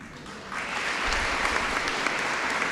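An audience at a U.S. Marine Corps Reserve Toys for Tots event breaks into applause that swells within a second into a steady, dense crowd clapping held at a strong level.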